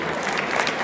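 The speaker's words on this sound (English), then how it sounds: "Can we have a massive round of applause for Rhys, please?" At a live stage talk at a London motorcycle show, a crowd gives a brief, dense wash of applause, steady and fairly loud throughout.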